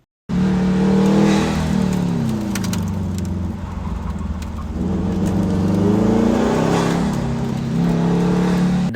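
A Factory Five 818 race car works through a hairpin turn, its engine loud and close, dropping in pitch as it slows into the corner, then revving up again on the way out, with a brief tire squeal.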